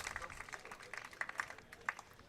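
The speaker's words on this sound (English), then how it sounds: "Cadena gets applause from the audience, respectful claps" An audience at a Santa Barbara Foresters versus Arroyo Seco Saints baseball game gives scattered, polite clapping, faint and distant, under a commentator talking.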